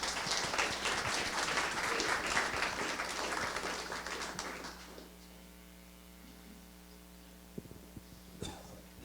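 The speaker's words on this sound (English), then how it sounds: "please give Lauren a round of applause" An audience at a tech talk applauds to welcome a speaker, dense clapping for about four seconds that fades out, leaving a steady mains hum and a few faint knocks.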